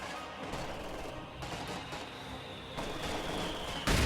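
A mortar half-track shells a church in a World War II strategy game, with repeated muffled impacts and bursts over a busy battle din, a sharper blast landing right at the end.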